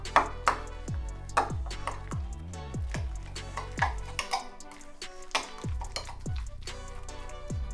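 Cream cheese spread being stirred in a bowl, with a spoon tapping and scraping the bowl in repeated light clinks at an irregular rhythm, close and fairly quiet.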